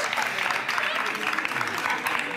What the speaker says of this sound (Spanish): Un aplauso, por favor, para todos ellos